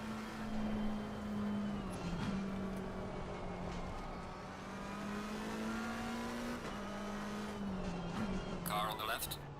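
A race car in a racing video game holds a steady high engine drone with gear shifts, then revs up and a tire squeal cuts in near the end, loud and close.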